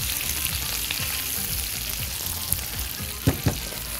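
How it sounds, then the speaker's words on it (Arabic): Onions frying together with bacon in a pan, a steady crackling sizzle throughout with a few sharper pops and spits near the end, no talking. "فهنسوي البصل شويه صغيرين كمان مع البيكن"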